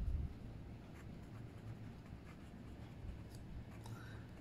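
A Kaigelu fountain pen with a fine (F) nib writes on paper, giving a faint, steady, close scratching over a quiet background.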